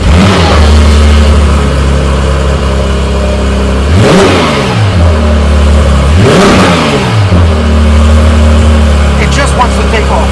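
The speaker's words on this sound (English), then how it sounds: "With a specially tuned engine and the standard sport exhaust, the motor sound of this 911 GT3" A Porsche 911 GT3 with a specially tuned engine and the standard sport exhaust idles loudly and close by. Its engine revs sharply twice, each time climbing quickly and then dropping back to idle.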